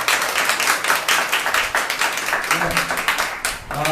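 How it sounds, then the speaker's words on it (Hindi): A church congregation applauds at a Sunday service, steady dense clapping that fills the room from start to finish, with a few voices faintly mixed in underneath. "चलिए हेमा के लिए एक जोरदार ताली हो जाए"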